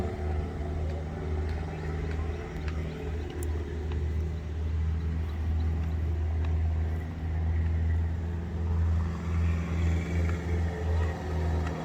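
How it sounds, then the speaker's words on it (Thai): A modified Thai stake-bed truck climbs a winding mountain road, its engine a steady low, heavy rumble that swells slightly as it labours uphill close by. "โอ้มาอีกคันแล้วครับ อันนี้เป็นคอกซิ่งครับ คอกซิ่ง"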